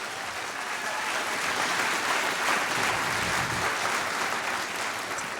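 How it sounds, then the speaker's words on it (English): Sustained applause from a large audience, a dense, even wash of clapping throughout. "Let's give them a big round of applause."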